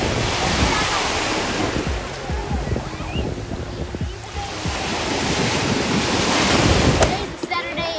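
Steady roar of surf and gusting wind on a Galveston Island beach, loud and continuous with wind buffeting the microphone throughout.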